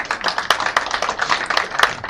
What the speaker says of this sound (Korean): 우리 이응로 교수님 뜨거운 박수를 안내주세요